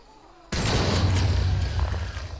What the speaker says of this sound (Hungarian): Robbant a benzinkút, robbanó hordó!